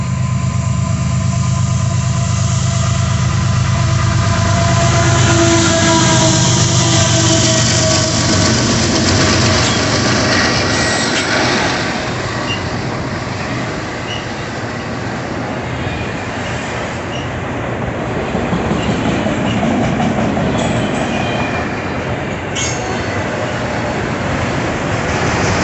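A CSX autorack freight train rolls past with a continuous heavy rumble and rattle of rail cars that swells early on and stays steady and close throughout, with no voices.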